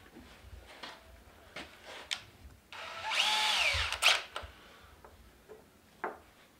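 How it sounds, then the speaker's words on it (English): A power drill whirs briefly while boring a hanger hole in a birdhouse ornament, its pitch rising then falling over about a second, surrounded by scattered clicks and taps in a quiet room. "you size it with a drill bit that you want to use to put your hanger in."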